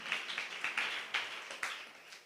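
A church congregation claps along in a steady series of sharp, fairly quiet claps, with a few stronger accents spaced roughly half a second apart.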